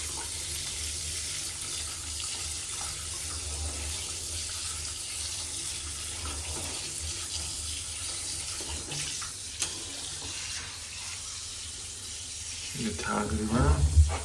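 Water from a tap pours steadily over a computer motherboard being washed, a continuous hiss and splash that grows louder and more broken near the end, with occasional speech over it.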